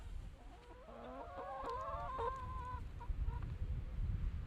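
Several chickens cluck and murmur softly over a low background rumble, with short overlapping calls rising and falling at a quiet level.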